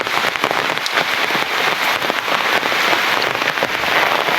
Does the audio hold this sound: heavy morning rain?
yes